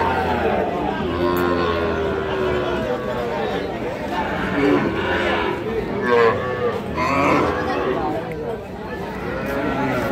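Young Sahiwal bull calves low repeatedly at a busy cattle market, their moos rising over a constant background of crowd chatter and nearby voices talking.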